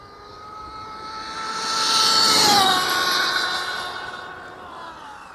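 Arrma Mojave RC car, upgraded for top speed, making a high-pitched whining motor pass that swells to a peak midway, then fades as it moves away, with no talking.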